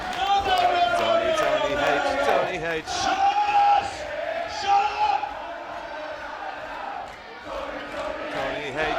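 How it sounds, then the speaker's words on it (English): Spectators at a heavyweight championship wrestling match in Whitehaven cheer and yell in a sustained roar, with a rising bellow early on and steady crowd noise throughout. "Listen to that crowd"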